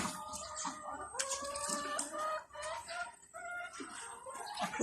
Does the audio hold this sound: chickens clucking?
yes